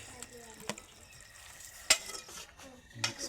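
Pasta being stirred in a frying pan, quiet scraping and clinks of a utensil against the pan over a soft sizzle, with a few sharper knocks.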